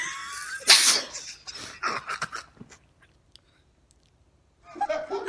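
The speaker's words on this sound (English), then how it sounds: "That sneeze has been coming on all day." One loud, sharp sneeze bursts out near the start after a brief intake of breath, followed by sniffling and soft breathy sounds, then a pause and some quiet vocal noises.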